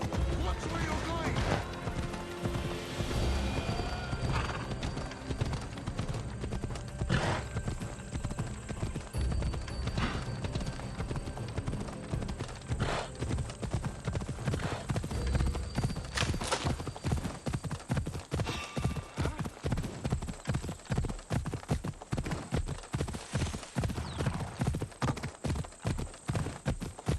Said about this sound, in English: Looks like a sturdy horse.